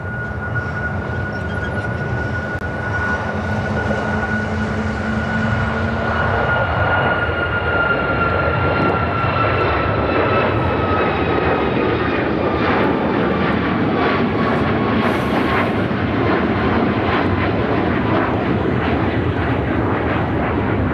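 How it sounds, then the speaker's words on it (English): A United Airlines Boeing 737 MAX 9 taking off from O'Hare, engines building from a whining spool with tonal hum into a loud, close, sustained roar whose pitch slowly drifts as it accelerates away. "This is United Airlines 1658 taking off to Newark on the MAX 9."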